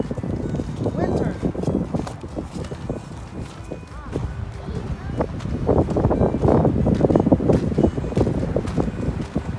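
Wind gusts through a cold winter forest in Finland, rumbling and buffeting the microphone, with crunching footsteps throughout and the gusts swelling louder toward the end.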